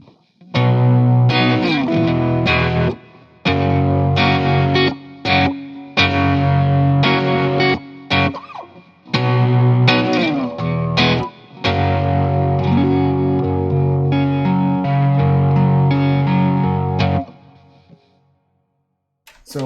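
Electric guitar demo played through Blue Cat and HyBrit amp plugins, with distorted, chorus-tinged chords and riffs in repeated phrases and brief gaps, then ringing out to silence at the end.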